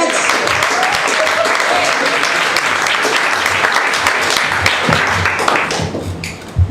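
Audience applause and cheering for stand-up comedian Nick Guarneri at a New York Comic Con comedy set, a dense, steady roar of clapping that holds for several seconds and thins out toward the end.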